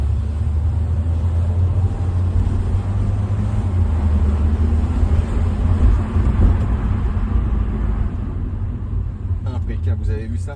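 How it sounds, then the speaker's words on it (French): A Mini Paceman All4 Cooper S with a 1.6-litre, 184 hp engine accelerates over a longer stretch, its loud, steady engine rumble and road noise holding throughout before easing slightly at the end. "J'accélère une nouvelle fois sur une plus grande longueur."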